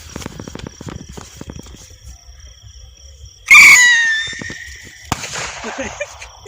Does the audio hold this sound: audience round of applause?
no